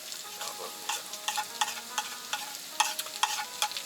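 Onions sizzle and crackle in a hot pan after garlic, at a campsite, with repeated scraping stirs and light clinks of a utensil, close and fairly quiet.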